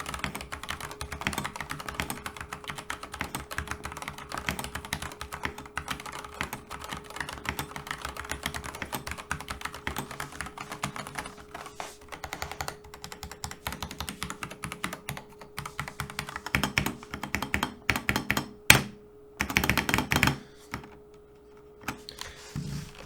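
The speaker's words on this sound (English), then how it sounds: "let's hear the sound of the Gateron red switches." Close, continuous typing on a Yunzii KC84 Pro mechanical keyboard with Gateron red switches and PBT keycaps: rapid, even keystrokes, then a few louder, separate clacks near the end.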